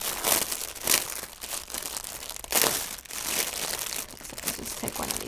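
A plastic bag of KN95 face masks crinkles and rustles as hands handle it, in close, irregular bursts of sharp crackling with brief pauses between.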